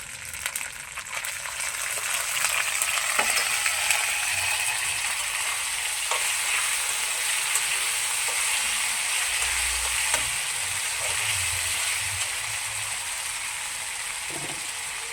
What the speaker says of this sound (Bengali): আদা আর কাঁচা লঙ্কার সঙ্গে মশলাটাকে ভেজে নিয়েছি